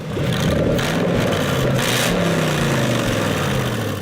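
A diesel-powered motorcycle revs steadily and loudly for several seconds, its deep engine note rising and falling slightly without a break.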